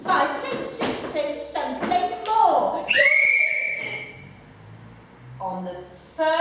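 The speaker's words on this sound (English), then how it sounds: "on the first whistle, you had to stand absolutely still" A sharp whistle blast rings out over a children's playground, preceded by children's chanting voices and thumps, then a quieter stretch with voices.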